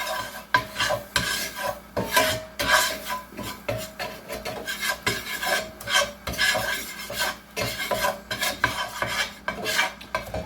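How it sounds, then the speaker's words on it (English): Flour being stirred into oil in a cooking pot for curry turkey, a steady scraping and rubbing of a utensil against the pot bottom in repeated strokes, close and alone without any talk. "I'm going to mix some flour into my oil"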